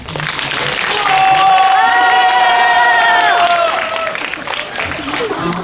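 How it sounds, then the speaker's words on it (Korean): A movie-talk audience at a Megabox cinema claps and cheers loudly, with whoops and voices rising over the applause. "박수 한번"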